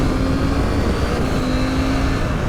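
A Husqvarna 901 Norden adventure motorcycle accelerates on a road, its engine droning steadily and loudly with a rising tone, close and continuous without talk.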